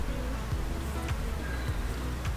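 Honeybees hum in a dense, steady drone around an open hive during a spring inspection, a continuous close buzz with faint passing whines as individual bees fly near.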